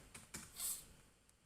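A few soft, quiet keystrokes on a computer keyboard while editing JavaScript code, scattered taps with a brief louder clatter in the middle, no voices.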